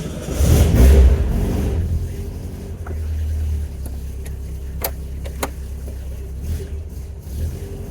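A car out on a test drive after some home wrenching, its engine humming low and steady up close, with a louder surge at the start and faint clicks and rattles over the drive.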